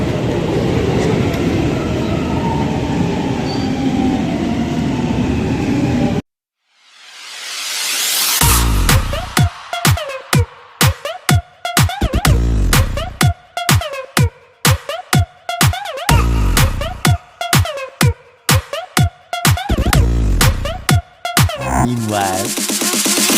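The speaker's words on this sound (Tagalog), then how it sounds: "Antay tayo ng train mga par" A train rolls past close by after a stretch of ambient noise and a brief silence, loud, with steady rhythmic clickety-clack of wheels over rail joints continuing for many seconds.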